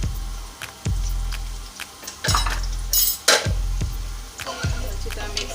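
A spoon stirs and clinks against a pot of boiling salted water with a little oil, cooking rice for chicken biryani: repeated sharp metallic knocks at an uneven rhythm, each followed by a swishing scrape, close and clear.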